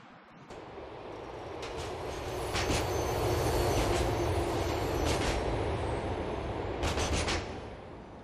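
A subway train in GTA IV rolls into a Liberty City station with a rising, steady rumble of wheels on rails, a few sharp clanks and squeals along the way, loud and continuous with no voices.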